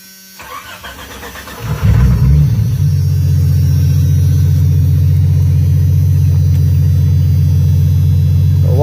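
A project car with a newly replaced alternator cranks briefly and catches, then settles into a loud, steady idle that holds close by for the rest of the stretch.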